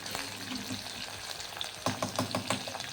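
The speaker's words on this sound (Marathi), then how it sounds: "कढीपत्तासुद्धा आपण फोडणीमध्ये टाकणार आहोत" Loud crackling sizzle of leaves hitting hot oil, with sharp popping spatters bursting in quick succession toward the end.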